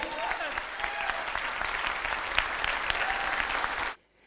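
Loud, steady audience applause in a motivational talk hall, many hands clapping in a dense continuous wash that cuts off abruptly just before the end, leaving near silence.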